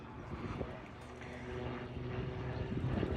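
A Fieseler Storch light propeller aircraft flying low while being chased at an air show, a steady droning engine rumble growing slightly louder, with a voice speaking faintly underneath.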